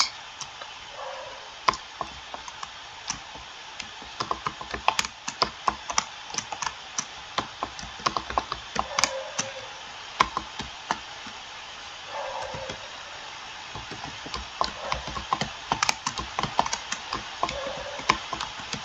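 Computer keyboard keys tapped while typing a prompt for an image generator, a steady run of light, quick clicks with brief pauses, moderately close and alone without talk.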